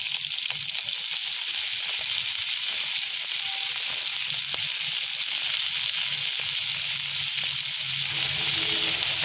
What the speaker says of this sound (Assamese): বিলাহীখিনি অকণমান ভজা ভজা হ'বলৈ দিম। ইয়াতে মই দি দিম কাটি থোৱা